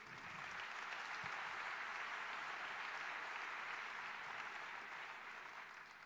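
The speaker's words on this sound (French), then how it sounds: "je vous propose d'applaudir et de remercier" Steady applause from an audience at a round-table talk fills the room, sustained and even for several seconds before tapering slightly at the end.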